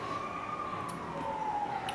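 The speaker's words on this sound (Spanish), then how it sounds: "vamos a aprovechar que está pasando una ambulancia" An ambulance siren passes along a city street, a steady wailing tone that sweeps slowly downward as the vehicle goes by, moderately loud over constant traffic noise, captured during an environmental sound-level measurement.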